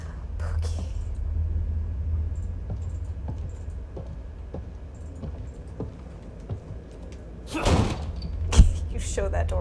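Heavy thuds of a door being struck in the survival horror game The Evil Within 2, two loud booming hits near the end following quieter tapping knocks, with a low rumbling ambience throughout.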